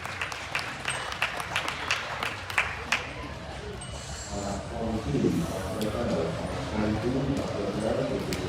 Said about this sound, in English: Crossbred exhibitors, nice round of applause.